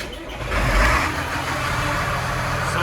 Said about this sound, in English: we'll try and light this tractor off